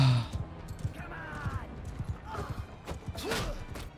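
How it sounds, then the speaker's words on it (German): Quiet, steady clip-clop of horse hooves trotting in the video game Mount & Blade II: Bannerlord, with soft thuds and other game sounds around them. "Ab aufs Pferd."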